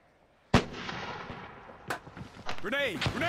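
A grenade bursts with a sudden loud bang in a multiplayer team shooter, followed by a second sharper blast and then excited voices talking over the lingering noise.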